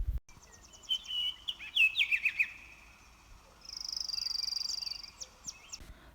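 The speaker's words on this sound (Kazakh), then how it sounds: "құстардың дауысын." Birds sing in nature, with bright chirping phrases, a rapid trill and a sustained high whistle that rise and fall over several seconds. The calls are clear and fairly close against quiet surroundings, and no one speaks.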